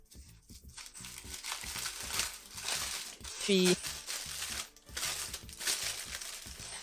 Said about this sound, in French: Alors, froissez-le aussi fort que vous pouvez